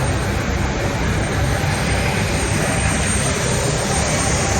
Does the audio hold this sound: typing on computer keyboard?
no